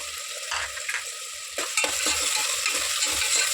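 Two sliced onions and five slit green chillies fry in a pan for Andhra-style goat head curry, a close, continuous sizzle broken by stirring strokes, growing fuller partway through.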